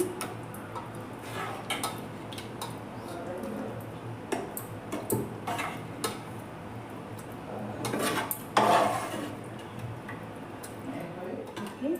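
Tomato-based fish curry is spooned from a cooking pot into a serving bowl, producing light metallic clinks and taps of a ladle against the vessels in an uneven rhythm, with a brief louder clatter near the end and faint talk.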